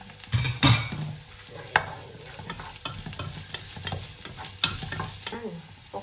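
Onion stir-frying in a pan for pancit with shrimp and chicken, an ongoing sizzle broken by scraping and clattering stirs of a utensil against the pan.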